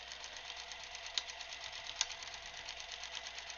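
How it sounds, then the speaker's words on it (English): A sewing machine runs steadily as it restitches along a previously sewn line, a continuous fast mechanical whir with a couple of small clicks, nearby and alone. "Now I'm going to just go ahead and restitch this. I'm going to just follow my stitching line that I made beforehand."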